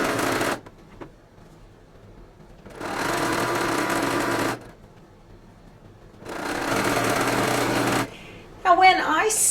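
A sewing machine winds a bobbin in loud, steady motor bursts of about two seconds each, with quiet gaps between them and a brief clatter of handling near the end.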